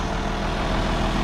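An International 1066 tractor idles with a load of steer manure, giving a loud, steady, low diesel rumble close to the microphone, unbroken for the short stretch.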